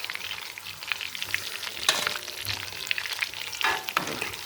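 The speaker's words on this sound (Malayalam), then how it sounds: "അപ്പോൾ നമ്മളെ ചിക്കൻ കംപ്ലീറ്റ് ഫ്രൈ ആയിട്ടുണ്ട്." Pieces of chicken sizzle steadily in a frying pan, a continuous close crackle with occasional louder spits and stirring scrapes, and no talk.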